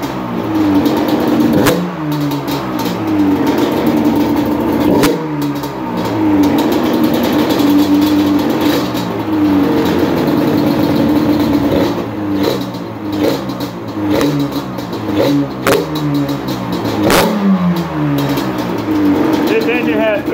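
A freshly built, port-tuned motor with carburetors fires up for its first start, revving and settling in repeated bursts that stay loud throughout, with people talking over the engine.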